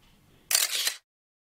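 A single bright camera shutter burst, a quick cluster of clicks at close range, taken while photographing a sunburst travel guitar, then abrupt silence.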